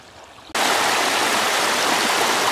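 A mountain stream on Hinchinbrook Island rushes steadily on the way to Zoe Falls, starting faint, then a loud, continuous broadband water roar close by that holds evenly throughout.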